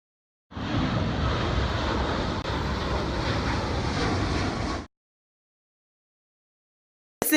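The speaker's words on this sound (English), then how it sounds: "let's get this plane back in the air" Airplane engine roaring at full power on takeoff, a loud steady broadband rush that starts abruptly, holds for about four seconds, then cuts off into silence.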